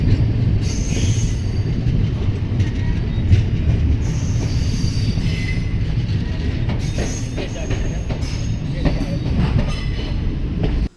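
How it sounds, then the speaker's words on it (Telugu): A train departing Kurnool City railway station rolls along with steady rumbling and rhythmic clacking of wheels on rails, with occasional metallic squeals, heard from close by. "ఫ్రెండ్ వచ్చేసి train Kurnool city railway station నుంచి అయితే డిపార్చ్ అవుతుంది."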